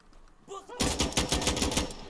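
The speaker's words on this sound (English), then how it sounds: "Now my weapon is on full auto, but I'm actually just tapping the trigger." Rapid burst of gunfire from a weapon tapped on full auto in the shooter game Insurgency Sandstorm, a quick run of close, loud shots after a short quieter lead-in.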